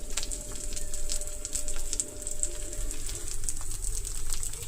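Pesarattu, a mung bean dosa, fries in oil in a pan over a medium flame. The steady close sizzle crackles and spits continuously, heard alone.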